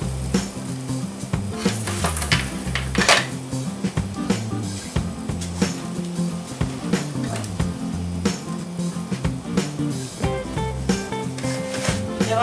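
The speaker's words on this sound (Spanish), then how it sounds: "Y ya nuestra salsa está hirviendo." Sauce bubbling and sizzling in a pan with lima bean meatballs, a loud, dense, continuous crackle with occasional stirring scrapes, close and uninterrupted by talk.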